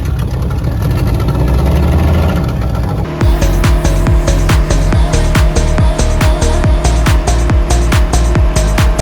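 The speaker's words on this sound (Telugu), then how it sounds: "ఇంజన్ స్టార్ట్ చేయి గురు." A boat engine on the sea near St. Mary's Island off Malpe: a low idle rumble, then at about three seconds the motor catches and runs loud with a fast, steady chugging pulse, close by.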